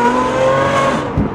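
Lamborghini Aventador SVJ fitted with a Gintani F1 exhaust, its engine revving loudly and steadily close by with a rich harmonic drone, a deeper surge near the end, no voices.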